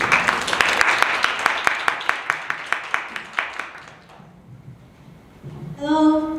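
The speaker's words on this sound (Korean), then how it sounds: "큰 박수 부탁드립니다." Scattered applause from a conference audience on renewable energy and biodiversity, a sparse run of distinct claps that fades out, followed by a short voice.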